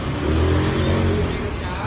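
Motorcycle engines rumbling and revving nearby at a rental shop on Koh Larn island near Pattaya, a steady loud engine drone with voices talking over it.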